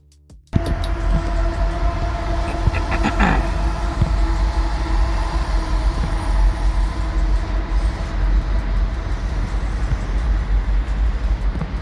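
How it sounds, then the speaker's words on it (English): A train rumbles steadily past in the background, a continuous low roar with faint rhythmic clatter that lasts throughout. "sorry about that, because you can hear a train in the background."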